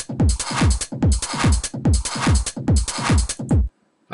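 The HammerHead Rhythm Station drum machine in Reason plays its acid pattern, with punchy kicks and hissy hi-hats in a steady, fast, looping rhythm. It is loud and close, with no talking, and stops abruptly near the end.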